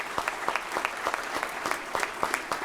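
Small audience clapping for a fire service member retiring after 38 years, a modest round of applause with distinct rhythmic claps, moderately close.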